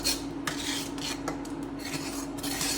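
Spoon stirring milk powder into boiling milk in a pot for semolina gulab jamun, with steady scraping strokes and light clinks against the metal over a constant bubbling hum, close and without talk.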